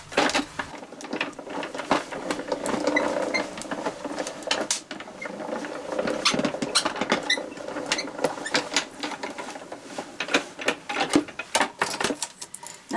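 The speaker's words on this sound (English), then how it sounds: "run that through the die cutting machine" A die cutting machine runs a piece of card through for a circular box die set, producing a busy stream of clicking, ratcheting mechanical ticks and rattles throughout, moderately loud and close with no talk.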